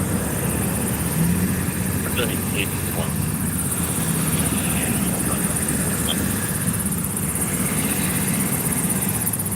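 A Flight For Life medical helicopter landed on Highway 85 near Fort Lupton, Colorado; its steady rotor and engine drone fills the background, constant and moderately distant, with faint scattered sounds on top.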